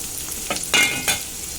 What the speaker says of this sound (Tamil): போட்டு நல்லா வதக்கி வச்சுக்கோங்க.